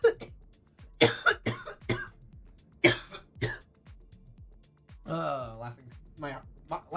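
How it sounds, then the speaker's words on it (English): A person coughs in repeated harsh bursts and clears their throat after laughing, with gasping breaths between the fits, and a stretch of shaky voiced sound follows near the end. "Laughing myself into coughing."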